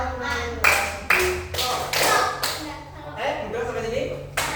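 Sharp hand claps from a children's movement exercise in an Indonesian primary school lesson, a few distinct claps spaced through the passage, close and fairly loud, alternating with an adult voice talking.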